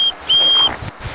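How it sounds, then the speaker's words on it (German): A trainer's whistle sounds at the end of a walrus feeding: a very short blip, then a longer steady, shrill blast close by, with soft background noise and no talking. "Am Ende einer Fütterung pfeifen wir immer dreimal mit der Pfeife"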